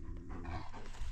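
Brownie, a female dog, pants steadily and rhythmically at close range with no voices over it.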